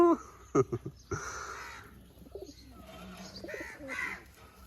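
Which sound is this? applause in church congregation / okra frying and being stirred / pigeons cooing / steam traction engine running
pigeons cooing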